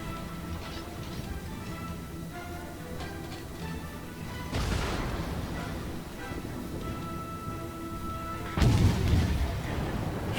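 Heavy naval gun salvos in the World of Warships game, deep booming blasts rolling over a constant engine drone, with two big broadband volleys about four seconds apart.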